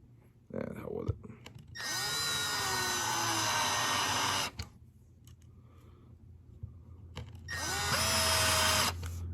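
A Milwaukee 12-volt cordless screw gun drives screws in two loud, whining bursts of several seconds each, with quieter handling noise and some talk between them.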